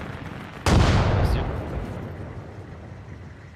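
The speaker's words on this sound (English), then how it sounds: "I'm gonna shoot the shit out of it" A single loud gunshot blast bursts out in the Arma: Reforger video game, followed by a long, fading rumble and echo that decays over a few seconds.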